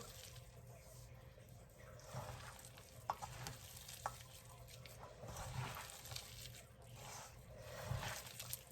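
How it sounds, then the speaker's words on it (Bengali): Onion fritter ingredients, sliced onion with batter, are mixed gently by hand in a bowl, giving soft squelching, stirring and crackling sounds with a few sharper clicks, close and fairly quiet, with no talk. "সবগুলো উপকরণ এখন মাখা দিব"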